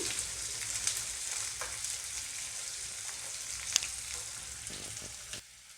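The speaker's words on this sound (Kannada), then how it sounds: "ಈಗ ಈರುಳ್ಳಿ ಹಾಕೊತಾ ಇದ್ದೀನಿ ಇದು ಹಾಗೆ ಸ್ವಲ್ಪ ಫ್ರೈ ಆಗೋಣ" Onions frying in a pan for a North Karnataka-style jhunka, a soft steady sizzle with a few faint clicks, fairly quiet and uninterrupted until it cuts off near the end.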